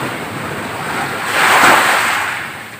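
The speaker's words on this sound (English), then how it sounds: "we are actually experiencing the ocean" Ocean surf washes in a broad, loud hiss, swelling to a crest midway and slowly easing back, with wind rumbling against the microphone and no voices.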